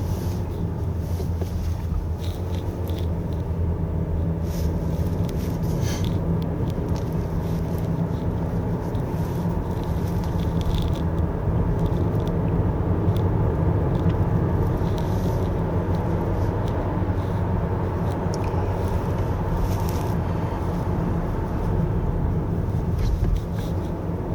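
A 2024 Honda Accord 1.5 turbo drives a winding road, heard from inside the cabin as a steady low engine and road drone with wind rush, while someone talks over it.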